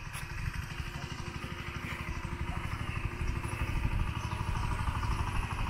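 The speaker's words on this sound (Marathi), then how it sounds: "आणि तिकडे ट्रॅक्टरने नांगरतात ते बघा" A diesel tractor ploughing a field chugs with a steady low rhythmic thump, growing slightly louder, with faint clatter over the drone.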